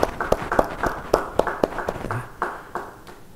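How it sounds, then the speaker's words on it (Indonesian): Audience in a church Bible study gathering gives a brief round of steady applause, evenly spaced hand claps in a regular beat that thin out and fade over a few seconds, moderately distant and fairly quiet. "Beri tepuk tangan buat dia."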